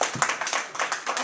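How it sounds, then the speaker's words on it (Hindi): Audience clapping in a church gathering during a Bible sermon, a steady burst of applause from many hands, fairly close and loud, with no talk over it. "ताली बजेगी कि नहीं?"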